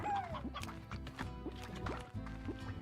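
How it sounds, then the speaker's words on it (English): A rooster in the Slime Rancher video game clucks and crows amid layered game music and splashy, liquid effects, the bird calls short and fairly close, repeating over a steady musical bed. "Ooh, there's a rooster out there, I saw him."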